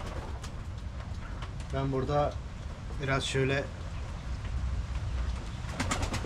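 Pigeons give a few close, rolling coos in two short bouts, heard indoors on a rainy day with a steady patter behind. Someone talks before and between the calls.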